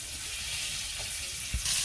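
Pointed gourd (potol) frying in a pan, a steady soft sizzle with a couple of brief stirring clatters near the end.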